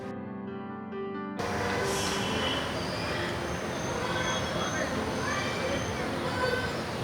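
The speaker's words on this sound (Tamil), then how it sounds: "அந்த மினி ட்ரெயின் கிளம்ப போகுது" Mini train pulling away at the Chennai Rail Museum: a brief tonal signal, then a broad, steady rumble of wheels on track as it departs, with people talking nearby.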